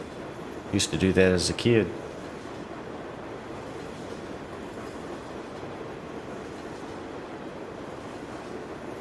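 A long freight train rolls by in Farming Simulator 19, a steady low rumble of wagons holding on for the whole stretch, with a short burst of someone talking early on.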